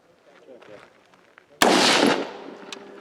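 A single loud gunshot cracks out at a practical shooting stage, its echo decaying over about a second, after quiet murmured talk in the background.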